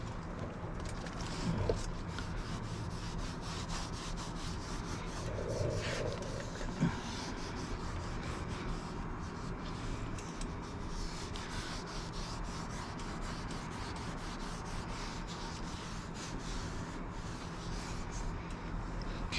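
Steady, close rubbing of a cloth working Colourlock leather protection into a leather car seat, a continuous soft scrubbing texture with a couple of faint knocks, no voices.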